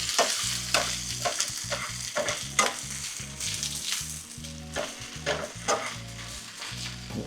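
Spinach and eggs tossed and stirred in a hot frying pan, giving a steady sizzle broken by repeated scraping and clattering strokes close up, with no talking.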